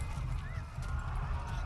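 A horse in the medieval video game Kingdom Come: Deliverance clops its hooves steadily with a short whinny, close and loud over a low rumble, with a voice talking briefly.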